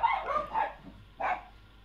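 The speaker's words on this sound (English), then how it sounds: "Excuse the barking dogs, from John Hoskins" Dogs barking in a quick cluster of three or four barks, then a short pause and one more bark, fairly close and loud.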